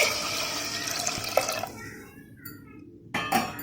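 Water poured from a measuring vessel into a cooking pot for temple-style venpongal, a steady close splashing pour that cuts off near the end, followed by a brief clink of the container.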